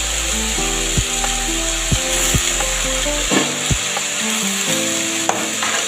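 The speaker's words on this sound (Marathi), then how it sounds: "भाजी परतवून घ्यायची चांगली वर खाली" Vegetables with moong dal being stir-fried in a pan: a steady loud sizzle runs throughout, broken by sharp periodic knocks and scrapes of a spatula tossing the food up and down.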